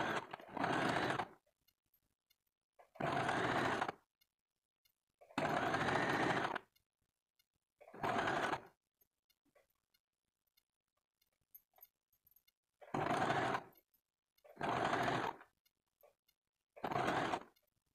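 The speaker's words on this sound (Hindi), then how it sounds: "अब हम कटोरी को सिलाई करते हैं।" A sewing machine stitches the katori cup onto a blouse in seven short bursts of rapid, even whirring, each about a second long and separated by quiet pauses, close and clear.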